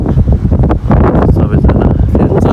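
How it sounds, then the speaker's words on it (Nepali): Strong wind roars and buffets the microphone beside a flooded river bridge, loud and continuous with gusty surges throughout. "हावा चलिरहेको छ यहाँ चाहिँ फेरि, हावा फेरि मान्छे उठाउने हो।"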